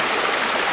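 Water of a stream flowing right nearby, a dense, even rushing and splashing that fills the whole moment without a break and with no talking.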